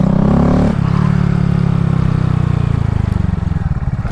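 Homemade motorcycle ridden on a sidewalk, its engine revving loudly and close with a rough pulsing idle that rises and then settles into a steady chugging drone.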